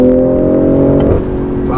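A BMW M340i pulling hard from a standstill toward 60 mph, a loud close engine drone with rising harmonic tones, briefly dipping near the end as the pitch climbs again.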